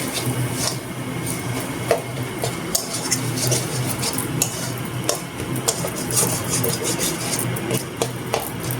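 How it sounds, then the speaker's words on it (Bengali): A spice paste with tomato and salt is stir-fried in a pan for Bengali fish kalia, giving close, continuous scraping and stirring with small clinks of the spatula against the metal, and no voices. "এবারে ভালো করে মশলাটা কিন্তু কষতে হবে।"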